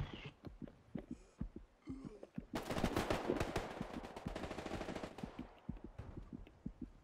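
Gunfire in an online first-person shooter match, a dense burst of sharp cracks in the middle with scattered single shots and thumps before and after, fairly close and loud.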